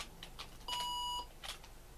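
Electronic beep from the ZX Spectrum game Horace Goes Skiing: a single steady synthetic tone holding for about half a second, clean and bright against faint background hiss, with short clicky blips before and after.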